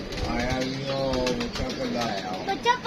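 Pigeons, two adults and a chick, give soft low coos and bird calls close by, with a brief flutter of wings, while someone talks over them throughout.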